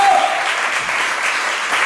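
A church congregation claps during a Spanish-language sermon, producing a steady, loud wash of dense applause that fills the whole moment, with a voice faintly mixed in under the clapping.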